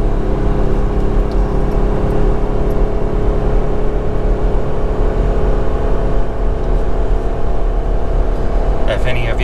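A 2020 Jeep Gladiator Sport Max Tow pulls a travel trailer uphill eastbound on White Pass at about 50 mph, its engine giving a loud, steady droning hum with constant road roar throughout.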